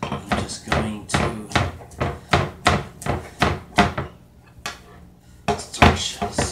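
A knife chops prahok dip ingredients together on a board, a close series of rapid, uneven knocking chops with a brief pause partway through.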